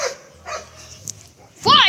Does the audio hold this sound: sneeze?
no